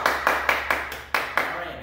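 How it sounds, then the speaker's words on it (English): A class of students claps for each other after a martial-arts style drill, a few broad bursts of hand claps spaced roughly a quarter second apart, fairly close and moderately loud. "All right, clap for each other."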